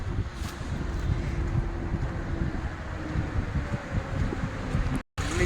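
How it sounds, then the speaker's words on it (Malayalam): Steady outdoor wind blows on a cold sunny day on the way to a gym, a broad continuous rush with low buffeting against the microphone, filling the whole stretch and cutting out briefly near the end. "തണുപ്പത്ത് ബാക്ക് നല്ല കാറ്റ് അടിക്കുന്നുണ്ട്"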